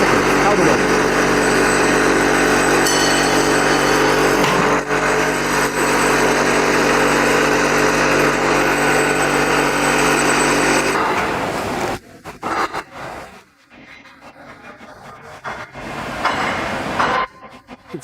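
A precast concrete cantilever workshop engine runs loud and steady with a droning, vibrating hum, then cuts off abruptly, leaving sparse clatter and short noises.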